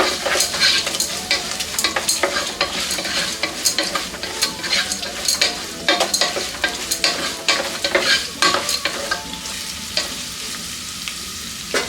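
Finely chopped onion fries in hot oil in a pan for a ridge gourd stir fry, a steady close sizzle broken by frequent scraping clacks of a spoon stirring, with no talking.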